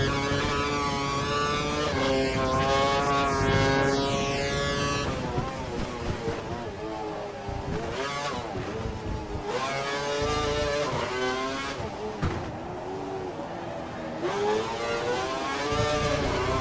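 An F1 race car engine from the game F1 2012 screams through rising and falling revs as it accelerates and shifts gears, a loud high-pitched whine that continues throughout.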